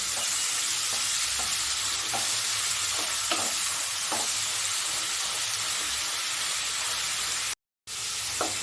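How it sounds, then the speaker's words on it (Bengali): Two medium onions frying in a pan for duck egg korma, a steady dense sizzle with occasional stirring scrapes throughout, cut by a brief dropout near the end before the sizzle resumes. "পেঁয়াজটাকে আমি ভালো করে লাল লাল করে ভেজে নেব"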